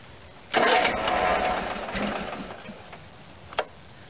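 An Onan twin B48M engine on an Ingersoll Case 448 garden tractor cranks with a short burst of starter whirring that fades into faint sputtering, followed by a brief knock near the end.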